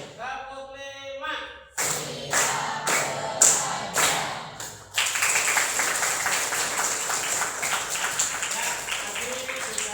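Several sharp unison hand claps from a classroom group follow one another in a quick rhythmic sequence, then give way to longer scattered applause, with a voice briefly speaking first.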